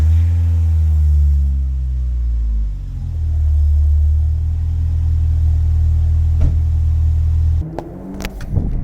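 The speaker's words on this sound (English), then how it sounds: "show you guys what the cold start sounds like on my muffler delete" A car with a completely stock-piped muffler delete exhaust cold-starts with a loud, close, deep droning rumble that holds steady for several seconds, then drops off near the end with a few clanks.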